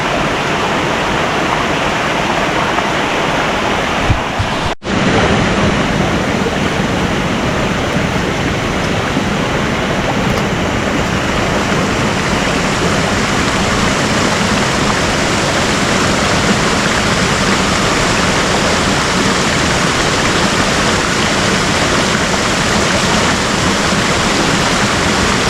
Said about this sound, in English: I see up there is more of a waterfall.